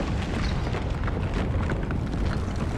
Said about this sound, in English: My tank just saved me from a volcanic eruption.